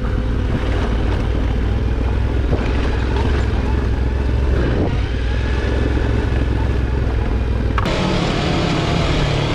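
A motorcycle engine drones steadily throughout on a Pyrenees road, loud and close, with rumbling low tones and a brief rise near the end.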